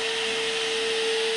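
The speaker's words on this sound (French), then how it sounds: "le sèche-cheveux qui arrive à faire passer l'air à travers le joint" Hair dryer forcing air through a window seal, a loud continuous blowing roar with a steady whine running the whole time, no talking.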